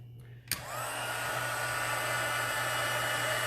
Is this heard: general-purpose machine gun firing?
no